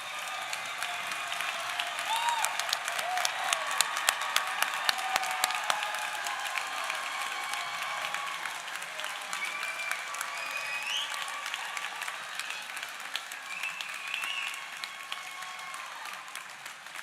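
A commencement audience at a university spring graduation ceremony applauds the graduates, steady sustained clapping from a large crowd in a big hall, loud and continuous throughout with no voice over it.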